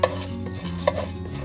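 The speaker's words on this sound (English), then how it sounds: "I'm going to add to this a tablespoon of pepper, black peppercorn, and allow these now to fry" Black peppercorns and jeera fry and are stirred in a pan, giving a soft, faint scraping sizzle over a brief moment with two small clicks.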